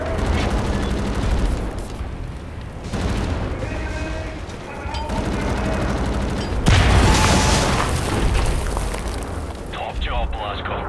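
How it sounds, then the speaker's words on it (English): A hand grenade going off in a World War II-themed video game, a heavy boom amid ongoing gunfire and battle noise, with voices talking over the action. "Oh, hand grenade, nice."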